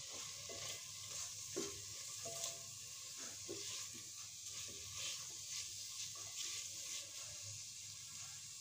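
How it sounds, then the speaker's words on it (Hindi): Onion and capsicum are stirred in a pressure cooker, giving a faint, steady sizzle with soft intermittent scraping from the stirring and light clinks throughout. "इसको मिक्स कर लेते हैं"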